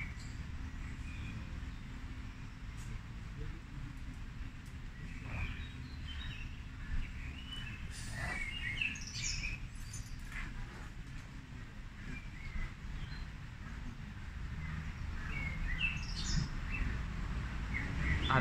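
Small songbirds chirp and twitter in scattered bursts over a steady low outdoor rumble, moderately distant and fairly faint, with no voices present.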